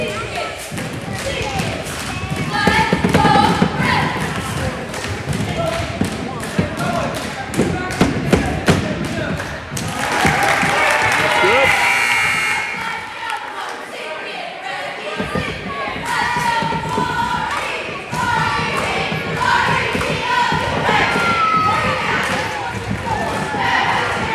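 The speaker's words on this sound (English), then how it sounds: "Got people pounding their feet" Crowd pounding their feet on gym bleachers during an eighth-grade boys basketball game, rapid repeated thumps and bouncing under crowd noise and voices, with a brief lull midway before the stomping resumes.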